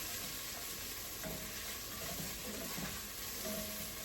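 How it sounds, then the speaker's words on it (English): Garlic cloves sizzle in a very hot pan while being stirred for an Aegean fasolada, giving a continuous, even frying hiss with faint scraping throughout. "you are going to stir that constantly until the garlic cloves are softened"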